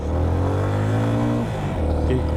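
Vehicle engine pulling hard uphill in full gear on a mountain road ride to Keokradong, a loud sustained drone with rising pitch, close and continuous.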